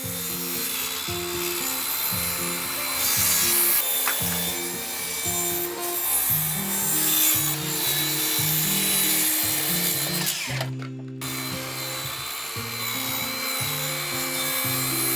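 Wooden roof boards on a woodshed being cut after installation, with a rough, rhythmic rasping of saw strokes repeating steadily and close, broken by one brief pause near the end.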